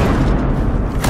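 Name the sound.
grenade explosion in video game Battlefield Hardline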